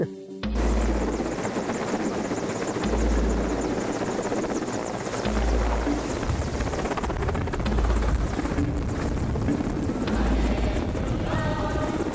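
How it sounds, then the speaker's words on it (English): A helicopter flies close and loud, its rotor thumping in a steady, continuous drone that fills the whole stretch with no talk over it. "we still have a helicopter ride"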